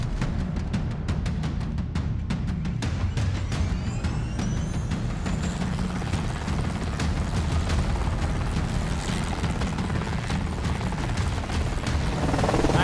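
Heavy, continuous rotor thumping and engine roar from a helicopter overhead, loud and close, with no speech.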